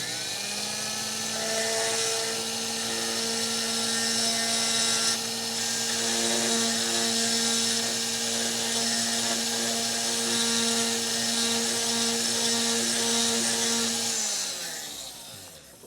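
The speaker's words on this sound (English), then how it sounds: "I'm going to go back over to the 3/64th inch end mill in the Fordham" A Foredom rotary tool fitted with a 3/64 inch end mill whines at a high, steady pitch while drilling out a pin on a Schrade push-button pocket knife, then spins down at the end.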